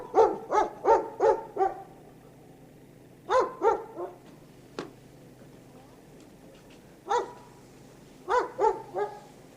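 A dog behind a house door barks in short bursts of three to five, with quiet gaps between them and one single bark in the middle, fairly close and with no talk.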